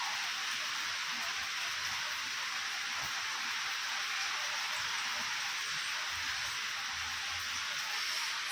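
Steady heavy rain pours down during a monsoon power cut, a dense continuous hiss of drops on surfaces that stays loud and even the whole time, with no talk over it.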